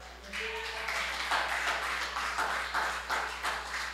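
A church congregation claps their hands together in praise, a steady, fairly faint rhythmic patter of many hands heard alone over a low hum.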